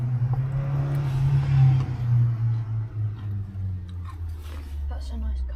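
A Nissan car drives past on a French street, a low engine rumble that swells and then fades, heard from inside a Hymer campervan.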